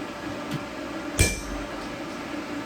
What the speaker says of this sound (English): I can just heat up the spot that I want to hit with my touch mark, which really helps prevent warping it out of shape when I hit it with the hammer.